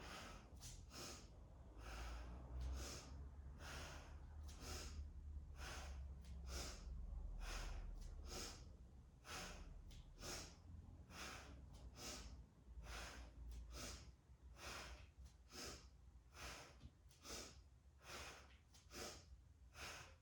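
Rapid, forceful nasal exhalations of dynamic yoga breathing in the style of Kapalabhati, a long regular series of sharp puffs, close and quiet, slowing slightly then speeding up again.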